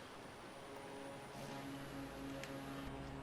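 Steady drone of a Pilatus Porter single-engine turboprop in a flight simulator over Sedona, a continuous engine hum with faint harmonic tones, moderately loud and unbroken throughout.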